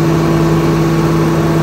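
A Swaraj 969 CRDi tractor engine held steady at 2300 rpm, a loud, continuous mechanical drone with strong even tones and no breaks, running alone without voices.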